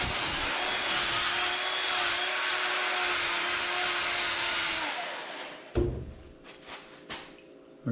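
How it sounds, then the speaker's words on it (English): A bench sander runs with a steady whining grind for about five seconds while a part on a square-body truck's 3+3 suspension is radiused, then cuts off, leaving a few clanks and faint handling noises. "Bench sander."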